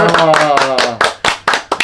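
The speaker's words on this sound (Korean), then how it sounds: "박수 한번 치고" Several close, sharp hand claps in an uneven rhythm during a small presentation ceremony in an interview setting, with a voice speaking over the first half.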